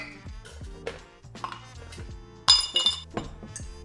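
A glass rocks tumbler set down and handled while serving amaro over ice, giving a series of close, bright clinks and knocks at irregular intervals, with a sharper cluster of ringing taps partway through.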